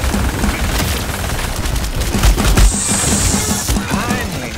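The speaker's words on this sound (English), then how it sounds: "That's that guy who's shooting from across the field." Rapid bursts of gunfire from the video game Paladins, one shooter firing from across the field, crackling in dense repeated volleys over game noise, with a brief high whine partway through.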